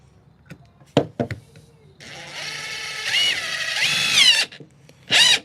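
A power drill drives screws into wooden coffee table legs, two sustained whirring bursts from about two to four and a half seconds and another brief spin near the end, preceded by a few sharp knocks.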